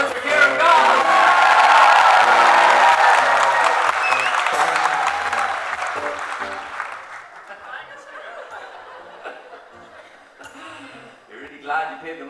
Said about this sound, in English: Give a huge round of applause for Mr. Kieran Goss!